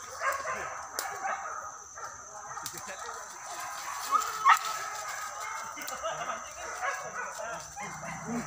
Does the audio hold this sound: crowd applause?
no